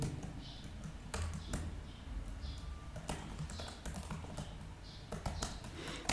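Quiet, close keystrokes on a computer keyboard come in short bursts and irregular clusters of taps over a low background hum.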